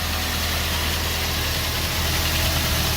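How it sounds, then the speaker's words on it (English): A 2008 Ford Ranger engine idles with a newly fitted serpentine belt, a steady, close mechanical hum with a low rumble and a constant whirring hiss that hold even throughout, with no voices. "Engine is on."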